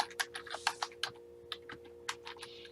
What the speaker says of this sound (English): So I'm going to start typing a name of a place